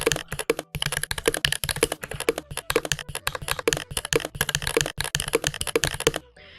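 Simulated mechanical keyboard typing from switch-emulation software with a Crystal Purple switch profile: a steady run of crisp, clean keystroke clicks with no talking, stopping just before the end.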